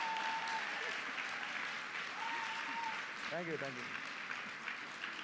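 Faint, steady applause from a seminar audience after a leadership speech, continuing under a voice briefly speaking.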